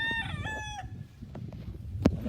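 A rooster crows once up close at a Philippine farm where fighting cocks are bred, a long harmonic call that rises and then falls and fades out, followed by quiet farmyard noise and a short sharp knock.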